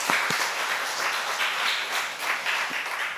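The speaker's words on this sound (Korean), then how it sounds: "명예권사로 박수 한번 쳐주세요." Church congregation applauding during a Sunday service as members are honored, steady dense clapping filling the whole stretch at moderate level with no talking.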